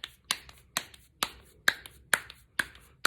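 Hands slap pupusa dough into a round, about eight crisp pats in a steady rhythm, each a sharp close slap with a quick decay.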